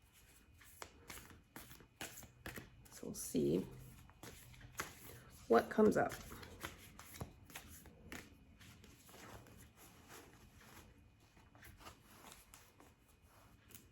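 Tarot cards being shuffled in a couple of brisk bursts while someone talks quietly over the rustle.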